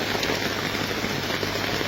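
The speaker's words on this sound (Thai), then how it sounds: "ฝนตกแรง" Heavy rain pours down near a temple, a dense, steady hiss of drops drumming on surfaces that stays even and close throughout, with no voices over it.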